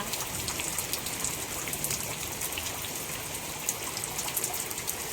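Steady rain patters down in a soft, continuous hiss, with scattered drops ticking on a surface nearby.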